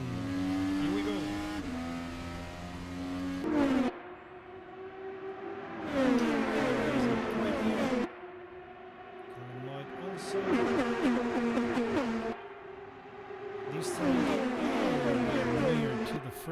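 Race cars in rFactor 2 accelerating hard at the Indy 500 restart, engines surging and whining up in repeated waves with brief drops, a commentator talking over them.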